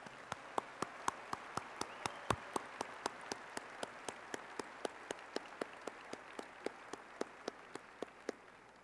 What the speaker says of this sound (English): Now we have a round of applause